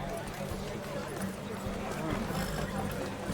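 Horses galloping at the start of a race in The Witcher 3, a rapid drumming of hooves running under voices that talk over the action.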